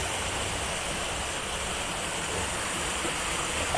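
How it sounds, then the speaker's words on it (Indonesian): Murky, moderately flowing river water at a fishing spot makes a dense, constant rushing hiss, steady and close with no voices. "Di kondisi air saat ini agak keruh, tapi enggak terlalu besar, enggak terlalu deras."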